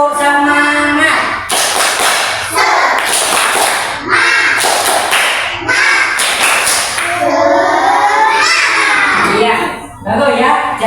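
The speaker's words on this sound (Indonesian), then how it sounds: "Tepuk semangat." Schoolchildren in an Indonesian classroom perform the 'tepuk semangat' clap chant, rhythmic bursts of clapping and tapping mixed with chanting young voices, loud and close, repeating in quick groups across the whole stretch.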